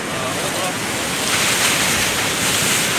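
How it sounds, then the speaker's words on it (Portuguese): Sea waves crash on the shore at Itapuã, Santa Catarina, at night: a loud, continuous roar of surf with wind buffeting, swelling stronger toward the middle and holding there. "o mar tá batendo muito aqui perto"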